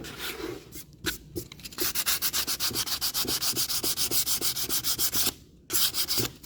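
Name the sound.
sanding kitchen cabinet door lightly with sandpaper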